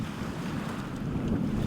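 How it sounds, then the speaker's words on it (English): Strong wind buffets the microphone over choppy bay water, a steady close roar with a constant low rumble and washing surf beneath, no voices. "the wind has really picked up. The water is now choppy"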